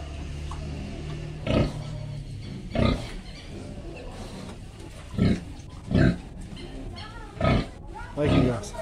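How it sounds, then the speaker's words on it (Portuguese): Grunts from a piglet crossed between a wild boar and a domestic pig, six short bursts at irregular intervals over steady low background noise, fairly close. "Java Porco cruzado com porco."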